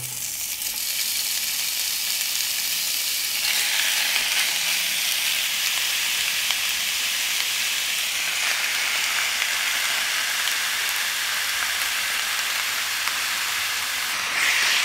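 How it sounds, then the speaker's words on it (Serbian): Meat frying in a deep pan of hot oil makes a loud, continuous sizzle and hiss up close. The sizzle swells slightly partway through and stays steady to the end, with no talk. "Ulje se zagrijalo i pržim sada meso."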